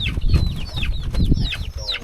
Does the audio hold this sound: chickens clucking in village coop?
yes